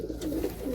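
Giribaz pigeons in a loft giving low, throaty cooing that carries on continuously for a brief moment, close and fairly loud.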